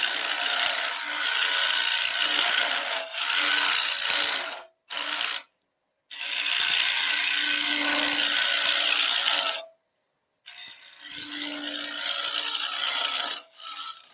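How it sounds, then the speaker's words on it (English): Hand hollowing on a wood lathe at a slow 1,500 RPM with a cutter, giving steady scraping, rasping bursts of cutting that stop briefly and start again, close and fairly loud with no talking. "This is going to be basically easy hand hollowing. just with the cutter"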